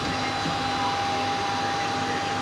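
A Hangcha battery forklift's fan running steadily at close range, a constant whirring hiss with a thin steady whine, unchanging across the moment, with no talking.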